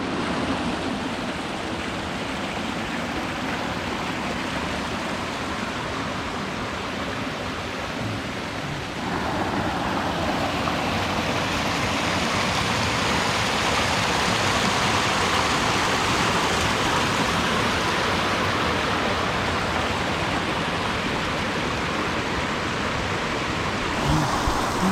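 A mountain creek in the Monashee Mountains of British Columbia rushes steadily, a dense continuous roar of water close by that swells slightly louder partway through, with no voices.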